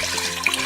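Water rushes steadily into a pressure cooker in a home kitchen, a continuous splashing pour at close range with no talk over it.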